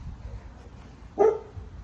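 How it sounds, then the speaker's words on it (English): A single short bark from a neighborhood dog, fairly distant, rises briefly above low outdoor background noise with no talking. "I know those neighborhood dogs be tripping."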